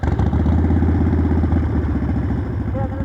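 A motorcycle engine in a parking lot where riders practice U-turns, loud and close with a steady thumping idle and light revving, and a BMW enduro bike among the machines nearby.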